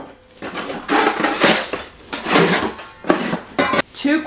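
Heavy All-Clad D3 stainless steel 8-quart stock pot and its lid handled during an unboxing, giving repeated loud metallic clanks, scrapes and knocks in irregular bursts, close by.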